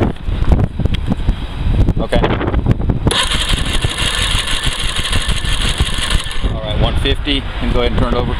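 OMC 115 outboard engine cranking over for a compression test, a loud steady mechanical churn that runs for several seconds, close up, with a second rhythmic whir near the end.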